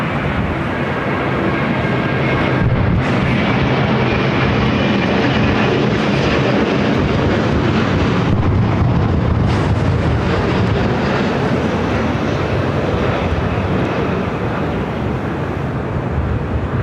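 A jet airliner at Los Angeles International Airport roars loudly and steadily throughout, a broad dense engine rush with no voices over it.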